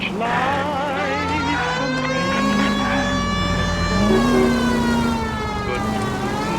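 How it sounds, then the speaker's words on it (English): A police car siren wails in the 1940s Los Angeles crime video game L.A. Noire, rising and falling loudly over engine noise and mixed with a sung period tune in the background. "Drive like this, at least use the siren."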